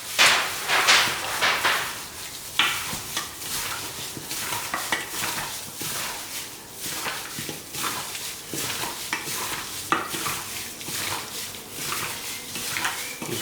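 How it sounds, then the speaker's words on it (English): Pork ribs are mixed with egg and cornstarch in a bowl, a wet squelching and slapping that churns continuously, with occasional clinks against the dish. "So yeah, now just give a good mix."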